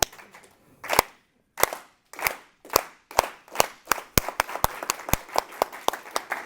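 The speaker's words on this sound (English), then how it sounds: "we have to start with a slow clap" A slow clap that gradually speeds up: single sharp claps spaced about a second apart, then quickening into a faster rhythm, several hands together.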